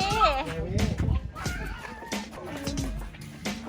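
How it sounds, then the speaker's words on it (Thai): Geese on a farm honking and clucking in loud, repeated calls close by, mixed with other fowl sounds while people talk over them. "ห่านห่านนี่ห่านนะคะ"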